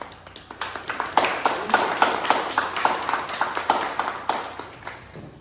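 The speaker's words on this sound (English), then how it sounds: "Let's first give them a big round of applause." An audience at an artist talk claps with rhythmic, evenly spaced claps, moderately loud and steady for about five seconds before fading slightly.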